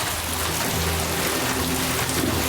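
Steady, dense rain pours down in a dramatic film scene, a continuous broad hiss with no pauses and no voices over it.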